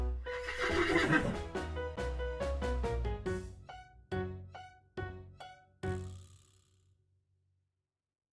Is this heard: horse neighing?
yes